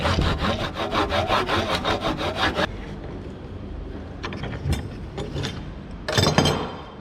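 Hand saw cutting a notch in wood in a quick steady rhythm of rasping strokes, then pausing; a few scattered scrapes and knocks follow, with one louder burst near the end.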